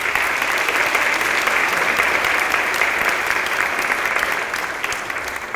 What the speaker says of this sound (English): give yourselves a round of applause if you haven't already